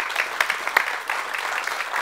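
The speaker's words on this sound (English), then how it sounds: "So applause." Audience applause after a mentoring talk, a steady patter of many hands clapping for about two seconds with a few sharper claps standing out, moderately loud in a room.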